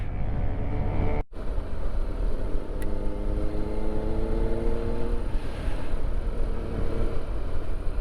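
Car traffic on a main road in the Elan Valley, a steady loud broadband road rumble with engine drone from passing vehicles rising and fading, close and without talk.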